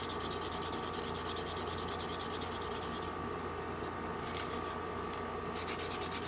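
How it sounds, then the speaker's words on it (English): Sanding holes in a plastic part of a 1/144 Zeta Gundam model kit, a rapid rhythmic scratching that runs steadily for several seconds, close up, pausing briefly midway before resuming, with no talking. "I'm gonna sand these holes again on its own"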